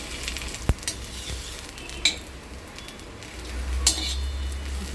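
Okra (bhendi) fries in a pan with a low, steady sizzle, broken by a few sharp clicks and taps of a utensil against the metal; no one speaks.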